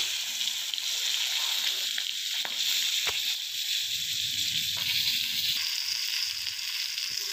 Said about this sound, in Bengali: মাছের মাথাটাকে ভেজে নিচ্ছি